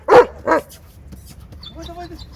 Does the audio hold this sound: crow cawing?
no